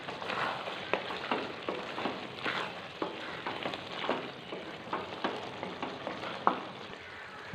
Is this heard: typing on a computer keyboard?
no